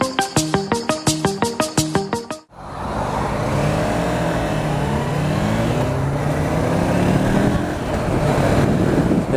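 A 2014 Honda CB500F motorcycle, an A2-licence machine, pulls hard and accelerates with a loud, close engine note that rises steadily. Before it, a short burst of rhythmic electronic tones plays.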